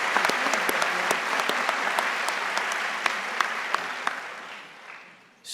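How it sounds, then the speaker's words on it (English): A convocation audience applauds the faculty at a university opening ceremony, a dense, sustained wash of clapping with sharp individual claps standing out, tapering off near the end. "take a moment and applaud the faculty who just applauded you"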